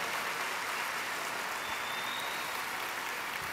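A worship congregation claps in praise, a continuous wash of applause at moderate volume that stays even for a few seconds, without voices.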